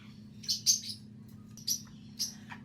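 A small caique parrot gives several sharp, high chirps and squeaks in irregular bursts close by, separated by short pauses over a quiet background hum.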